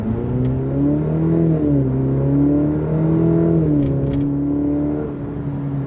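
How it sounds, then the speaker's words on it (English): A 2020 Cadillac CT5 with a four-cylinder engine accelerates hard from a launch, its engine note climbing steadily through gear changes in a loud, continuous drone heard from inside the car. "we're gonna go ahead and do a launch here and see how this car responds"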